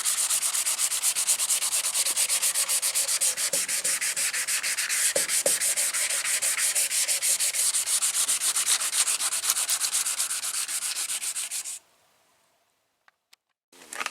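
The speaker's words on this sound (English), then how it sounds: "You can feel it coming down when you're sanding it." Continuous hand sanding of paint texture in an OBS Chevrolet engine bay, a rapid raspy scrubbing rhythm that runs steadily for about twelve seconds, then stops, followed by a couple of small knocks.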